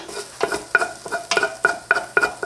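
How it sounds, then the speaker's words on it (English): Seitan filling for a vegan shepherd's pie stirred and pushed across a hot pot, with scraping spoon strokes in a steady rhythm over a soft background sizzle, close and moderately loud. "We're gonna push everything to one side of the pot."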